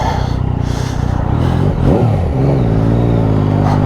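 A Yamaha XSR900 motorcycle's three-cylinder engine revs loudly and close up, its pitch climbing and dipping before settling into a steady throaty drone.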